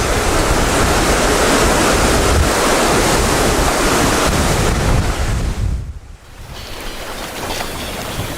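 Ocean waves rush and wash steadily around a sailing boat moving fast off South Africa, loud and close with heavy wind buffeting the microphone, easing briefly before building again.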